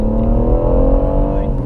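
BMW M135i and M140i pulling hard from about 50 mph in a rolling race, a loud, steady engine drone with rising harmonic tones, continuous throughout, heard from close by.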